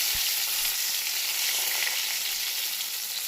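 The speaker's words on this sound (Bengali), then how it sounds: "সেই জন্য আগে পটলটা ভেজে নিচ্ছি" Pointed gourd (potol) frying in oil gives off a bright, steady sizzling hiss, close and even throughout after a small knock at the start.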